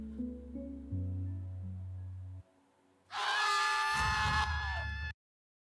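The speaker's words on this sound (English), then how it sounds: "I was just gonna say before that scream." A sharp, high scream from a Thai drama series, The Eclipse, bursts out loud and alone for about two seconds after a stretch of low, quiet background music.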